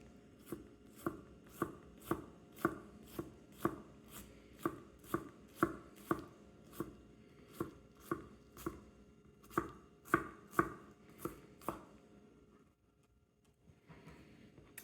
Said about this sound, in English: You want very, very, very thinly sliced onions.